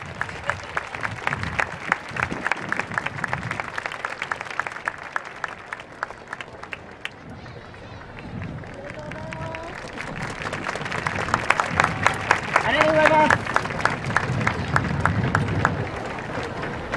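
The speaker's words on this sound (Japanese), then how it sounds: "皆さん大きな拍手でお迎えください。" Crowd applause at a dance festival in Inuyama, a steady patter of many hands welcoming a kagura dance troupe, swelling louder in the second half with a few voices and calls over it.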